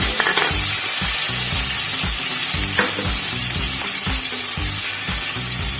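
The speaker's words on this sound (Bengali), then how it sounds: "এবার আমি কড়াইতে তেল গরম বসিয়ে দিচ্ছি পনিরগুলোকে ভেজে নেব" Paneer cubes frying in hot oil in a kadai, giving a loud continuous sizzle broken by repeated rhythmic clinks and scrapes of a spatula stirring, with no talk.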